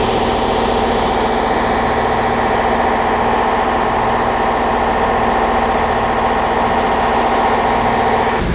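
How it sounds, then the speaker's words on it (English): Heavy boat engines on a Seawind 1600 catamaran drone continuously at close range, a dense steady rumble with a mechanical whine on top and no talking. "I won't jump into the engine room because engines are running"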